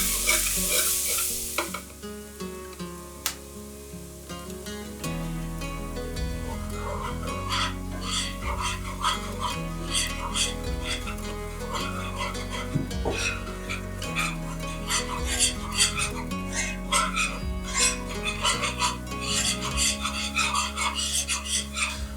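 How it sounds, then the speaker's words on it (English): Flour and cayenne being whisked into browned garlic in a pan for cream gravy, a brisk continuous rhythmic whisk scraping over a steady sizzle, close and prominent throughout. "begin whisking in the flour and cayenne pepper"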